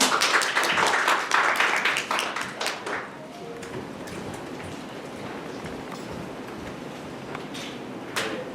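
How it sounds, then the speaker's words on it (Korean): Applause at a Korean design press conference, a burst of claps that is loud for about three seconds and then drops to faint scattered clapping and room noise. "큰 박수 부탁드립니다."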